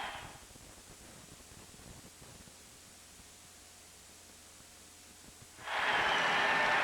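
Muffled, simulated deaf hearing standing in for a 70,000-plus stadium crowd at the 1991 Citrus Bowl, Georgia Tech vs. Nebraska: a dull, faint hiss that holds for several seconds, then bursts into a loud, bright wash of noise.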